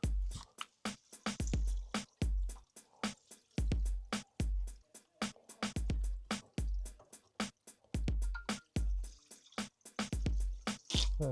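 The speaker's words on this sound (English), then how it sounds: "And I just put a hose pipe and flush." Water from a hose pipe flushes through an Ideal Logic boiler, splashing and gushing in rapid, uneven pulsing bursts, close and fairly loud with no talking.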